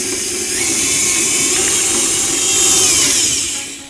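An electric mixer creams butter and icing sugar at a raised speed, giving a steady, loud, high-pitched motor whine with a faint squeal that runs continuously and swells slightly near the end.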